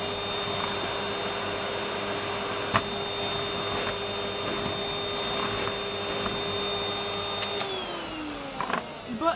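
A Miele vacuum cleaner runs continuously with a harsh, rough roar and a steady whine, the motor sounding in poor condition, then the pitch drops slightly near the end as it slows.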